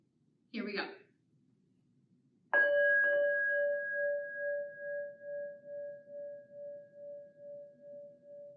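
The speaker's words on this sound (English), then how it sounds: "When you can't hear the sound of the bell anymore, show a thumbs up on your knee" A single bell is struck once and rings with a clear sustained tone that slowly fades, pulsing gently as it decays; a short voice comes just before the strike.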